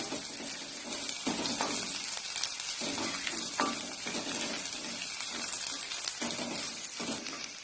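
Crushed ginger and four garlic cloves fry in a pan as the start of a tomato soup, giving a loud, steady, close sizzle with occasional stirring clatter.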